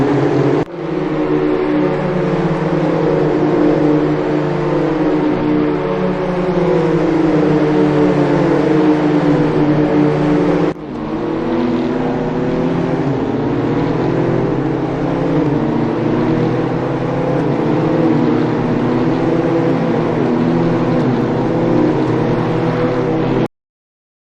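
BMW M2 CS race cars racing on a circuit, their engines droning loud and steady in a sustained roar with layered harmonics and a brief dip midway.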